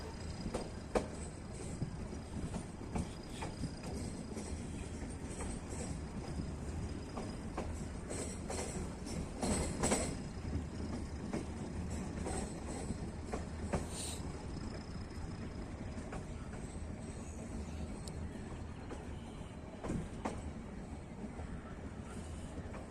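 A metre-gauge passenger train on the Bahraich to Nepalganj line runs slowly at about 20 to 25 km/h, producing a steady rumble and rattle heard from on board, with wind buffeting throughout.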